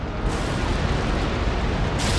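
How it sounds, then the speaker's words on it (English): Cannon broadside from a sailing warship in Empire: Total War, a dense continuous rumbling roar of overlapping booms sustained at steady loudness for the whole stretch. "I'm going to unleash my cannons on Jim's ship there"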